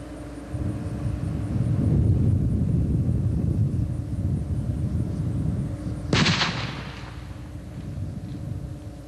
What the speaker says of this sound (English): a 2 inch by 12 inch pipe bomb with 3 quarter pounds of smokeless powder, mitigated.